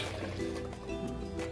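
Milk poured from a container into a blender jar for cold coffee, a short, steady liquid gurgle and splash close by.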